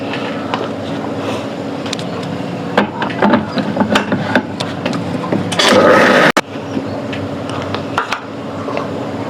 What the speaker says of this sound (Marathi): थोडंसं पाणी टाकू आणि मिक्सरला परत फिरून घेऊ.